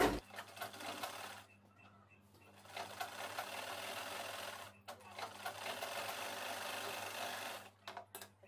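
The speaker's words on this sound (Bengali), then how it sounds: "এবার যেটা করব সেটা হচ্ছে আমরা সাইডের সেলাই দিয়ে দেব এইভাবে।" A sewing machine stitches the side seam of a child's dress in close, loud bursts of rapid whirring, with brief pauses between runs.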